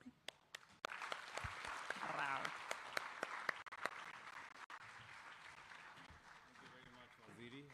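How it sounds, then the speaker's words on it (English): An audience at the Africa 2023 Manufacturing Expo in Nairobi applauds as the President is invited in, a broad wash of clapping with sharp individual claps standing out and an announcer's voice heard over it. "A loud of applause."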